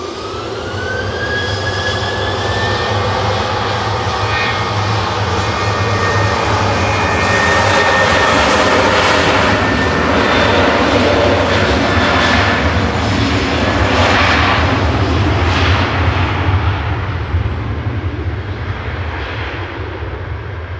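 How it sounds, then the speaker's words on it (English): TUI Boeing 737-800 airliner, twelve years old, taking off from Manchester for Palma de Mallorca, with a loud sustained jet engine roar and rising whine swelling then holding steady. "that was TUI 26062 Palma de Mallorca, operated by 12-year-old 737-800 GTAWY"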